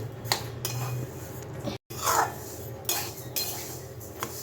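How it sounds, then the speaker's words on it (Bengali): Mung dal being dry-roasted in a pan and stirred, giving steady scraping and clinking of a utensil against metal with a few louder scrapes, close and alone. "মুগ ডালটা ভেজে রাখছি রান্না করবার সময় অত ঝামেলা হবে না"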